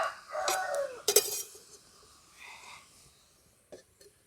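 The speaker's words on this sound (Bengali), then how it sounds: "এরপর এটা আমি চাপা দিয়ে দিচ্ছি সেদ্ধ হওয়ার জন্য।" A lid set down on a pot of cooking bottle gourd gives a couple of sharp metallic clanks close by, then fades into quiet clatter.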